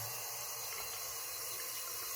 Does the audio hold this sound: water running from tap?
yes